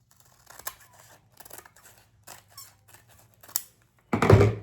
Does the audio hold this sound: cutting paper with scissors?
yes